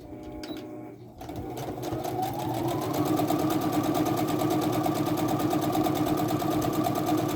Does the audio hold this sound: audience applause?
no